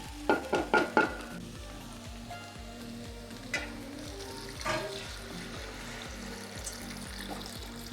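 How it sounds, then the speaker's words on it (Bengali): Hot water is poured into a pan for egg biryani, raising a steady close sizzle and bubbling hiss after a few quick clinks of utensils at the start. "পরিমাণ মতো গরম জল দিয়ে দেব।"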